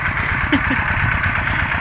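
Walk-behind tractor engine running steadily in a rice field, a close, continuous mid-pitched chugging drone with even pulsing throughout, briefly joined by a faint voice-like sound.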